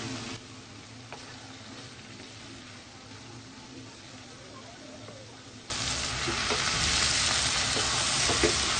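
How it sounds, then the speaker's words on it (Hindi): Chopped tinda and boiled chana dal fry together in a pan with a steady close sizzle and occasional stirring, the hiss jumping noticeably louder partway through and staying strong. "2 से 3 मिनट हम इसको दाल के साथ भूनेंगे।"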